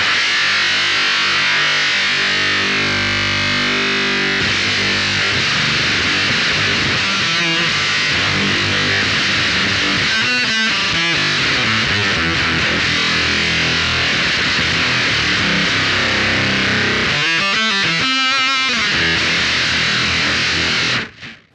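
Electric guitar through a Noise Engineering Dystorpia fuzz pedal with the tone control turned high, giving a thick, saturated mid-scooped fuzz; sustained chords and riffs ring out loud and continuous with a few choppy muted passages, no talking.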